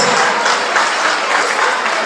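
Loud, dense audience applause at a Kurdish wedding celebration, a continuous wash of many hands clapping close and steady without pause.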